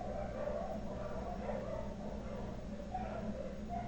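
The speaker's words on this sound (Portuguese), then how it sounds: "Vocês estão escutando os cachorros?" Dogs at an animal shelter across the street barking and yipping faintly in the distance, scattered calls over a steady low background hum, no speech.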